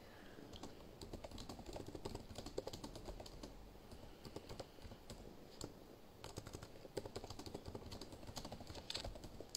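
Quiet typing on a computer keyboard, a soft, continuous run of light key clicks with small irregular bursts, close by in a calm indoor room.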